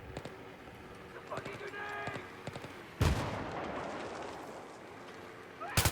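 Gunfire in the Battlefield 3 video game: scattered muffled shots early on, then a sharp loud blast near the middle that rings out, with another burst of shots at the end over low battlefield ambience.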